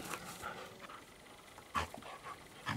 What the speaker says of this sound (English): a playful dog